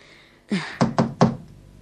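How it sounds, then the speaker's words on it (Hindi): Knocking on a wooden door indoors: one initial thud, then three sharp, evenly spaced raps, loud and close, with no voices. "दरवाजा खोलो कोको, तुम क्या कर रहे हो?"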